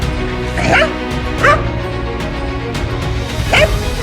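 A dog barks a few times in short, sharp yips spaced across a steady background hum, with no one talking.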